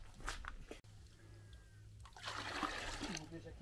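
Water pours steadily into a container to dilute penetrating primer at a 1:4 ratio, mixed for a second coat while preparing an uneven house facade for insulation, a continuous close splashing rush under background noise and some talk.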